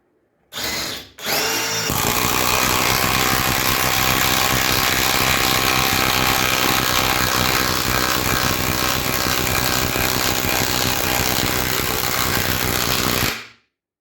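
Parkside PDSSAP-20 cordless impact driver fitted with an 8 Ah battery driving a screw through a washer: a short burst, then a loud, continuous hammering whir held for about eleven seconds before cutting off, close up with no talking.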